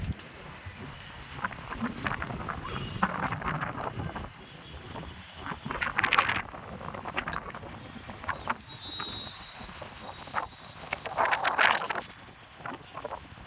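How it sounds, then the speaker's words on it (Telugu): Gusty wind buffeting the microphone in bursts during rain in a vegetable garden, moderately loud, with no clear voices. "గాలి అయితే విపరీతంగా గాలి పెడుతుందండి. ఇప్పుడు గాలి పెడుతుంది."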